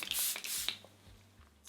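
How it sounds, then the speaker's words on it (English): A highlighter pan in a makeup palette cracks and crumbles, giving brief near crunching, tearing snaps with a few sharp clicks, fairly quiet and with no talk. "That sound is because I've broken one of the highlighters in this highlighter palette."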